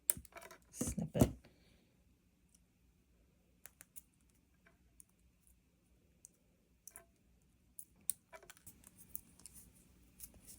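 Wire cutters snip round jewellery wire for a wire-wrapped pendant, giving a sharp close click early on, then scattered faint ticks and handling sounds in a quiet room.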